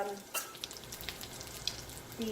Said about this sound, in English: So as you see, I'm frying my tilapia.